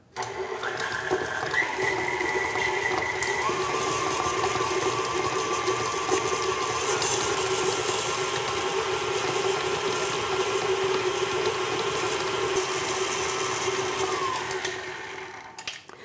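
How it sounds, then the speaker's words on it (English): An electric mixer creams butter for buttercream in a large bowl at medium speed, a steady loud motor whir with a brief pitch shift as speed changes, running continuously for about fifteen seconds before winding down. "Using the large bowl of an electric mixer, start with stir and then turn it up to a medium speed because you're re-creaming the butter."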